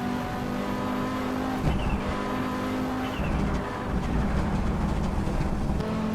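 Audi Sport Quattro S1 rally car in a racing video game, its engine held bouncing against the rev limiter in a steady buzzing drone with a brief dip midway, loud and continuous with no talk.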